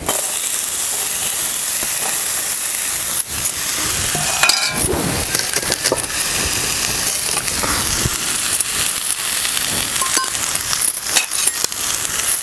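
Ridge gourd roasting in a little oil in a pan, with a steady close sizzle and hiss throughout and occasional scrapes and clinks of a spatula stirring it.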